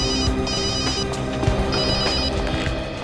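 A telephone rings with repeated electronic trilling bursts over a busy, fairly loud background in a police crime drama.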